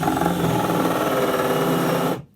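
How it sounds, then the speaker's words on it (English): A power drill bores through pallet wood with a steady whir at close range for about two seconds, then winds down and cuts off. "And then we're just going to drill through"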